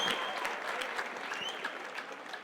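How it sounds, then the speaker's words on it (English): A school assembly audience at a Hispanic Heritage event claps steadily, a dense, even burst of applause with a faint voice underneath. "Please give a big round of applause for her."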